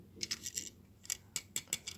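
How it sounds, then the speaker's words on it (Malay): Several crisp, close snips of scissors cutting a cable tie on a Shell remote-control toy car, a quick cluster of clicks followed by a brief pause and then another run of sharp snips. "kita gunting dulu kabel tie"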